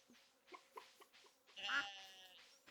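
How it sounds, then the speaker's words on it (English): A farming video game sheep lets out a loud, wavering bleat after a series of soft, evenly spaced game sounds, with a quiet voice faintly present. "The sheep is pissed at me too."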